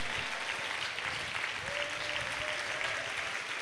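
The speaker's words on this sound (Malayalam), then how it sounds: "കൈയടിച്ച് ദൈവത്തെ ആരാധിക്കുക" A worship congregation clapping hands together, a dense, steady applause that fills the space evenly and stays fairly loud throughout, with a faint voice underneath.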